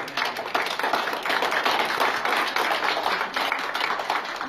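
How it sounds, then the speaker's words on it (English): Applause for children at a baptism, a group of people clapping close by in a dense, lively patter that continues steadily without talk. "Let us give them a big applause to these children."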